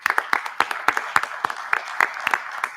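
A small group claps for high school students at a school board meeting, a sparse, distinct patter of individual hand claps at a moderate, slightly uneven pace, fairly close and without talk.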